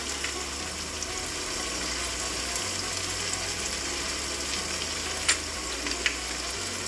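Mutton sizzles and fries in a pan with ground spices while being stirred, a steady crackling hiss with a few scraping clicks from the spoon, close and continuous, no talking.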